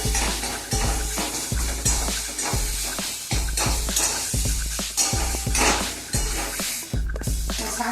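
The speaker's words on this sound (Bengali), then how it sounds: "রসুন আর লঙ্কা ফোড়ন দিলাম" Garlic and chili frying in hot oil while being stirred for a Bengali taro and greens curry, a steady close sizzle broken by a regular series of sharp metal scrapes of the spoon against the pan, with no talk.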